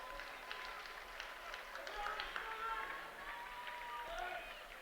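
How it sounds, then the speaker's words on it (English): Faint, distant applause from the stands at a high school stadium during an under-23 soccer match, soft scattered clapping and crowd murmur that swells slightly midway. "how about a round of applause for our ball team doing a fantastic job this afternoon"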